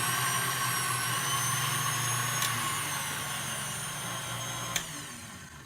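An electric mixer with a paddle attachment whips heavy cream with vanilla extract, giving a continuous whirring motor drone that fades slightly toward the end, with no talking.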